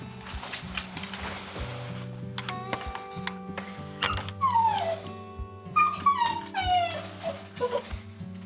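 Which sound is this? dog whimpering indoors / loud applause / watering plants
dog whimpering indoors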